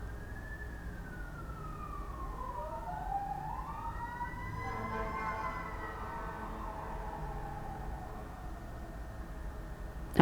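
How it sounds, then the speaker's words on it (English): Several emergency sirens wail at once, their pitches sweeping up and down and crossing each other, moderately distant and sustained throughout. "There go the sirens."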